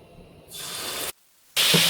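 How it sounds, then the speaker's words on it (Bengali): Catfish pieces hit hot oil in a pan with a sharp hissing sizzle; one burst is followed by a brief hush, then a second louder sizzle as more fish goes in. "এখন তেলটা গরম হয়ে গেছে, একে একে আমি মাছগুলো সব ভেজে নেব"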